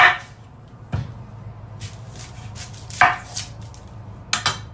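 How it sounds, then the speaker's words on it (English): Onions chopped on a cutting board with a knife: a few sharp, separate knocks, two spaced apart and a quick pair at the end, over a quiet background with no talking. "I am going to chop some onions"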